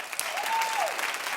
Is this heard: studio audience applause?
yes